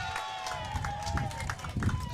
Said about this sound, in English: The crowd popped huge over there on the Columbian side.